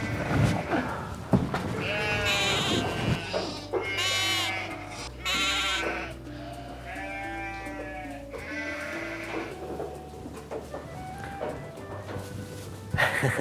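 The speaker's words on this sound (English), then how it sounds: "You know, goats are one of my favourite animals." Young goats bleat repeatedly at close range, several wavering calls overlapping, with people talking softly between them on a farm in Brønnøysund.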